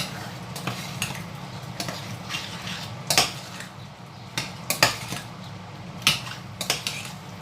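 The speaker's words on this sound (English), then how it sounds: "Then you give it a stir." Oven-roasted yam in crayfish sauce is stirred in a pot, a spoon clinking and scraping against the metal in irregular sharp knocks over a faint low sizzle.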